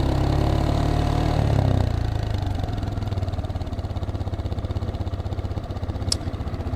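Geon X Road Light 250 motorcycle engine idling close by, a steady low rumble with a fast, even pulse that drops slightly in pitch partway through, alone with no talking.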